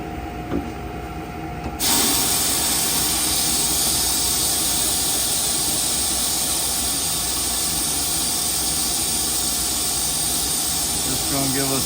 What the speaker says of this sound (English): once I start blasting, it's gonna be a mess in there, so it'll be a little loud